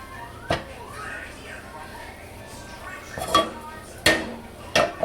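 Metal clinks of a spoon against a saucepan on medium-low heat as two tablespoons of butter go in: four sharp, separate knocks spaced over a few seconds, with a quiet kitchen background between them.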